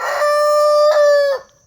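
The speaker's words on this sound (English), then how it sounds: "still making little baby chick noises" Young Cornish Cross and Rhode Island Red chickens on a small homestead give one loud, sustained, tonal call lasting over a second, with a brief break midway, heard close and alone.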